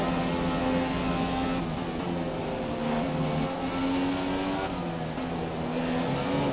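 Lewis Hamilton's Formula 1 car in a racing video game at Suzuka pulls away, its high-pitched engine note steady and rising in pitch, loud and continuous with no talk over it.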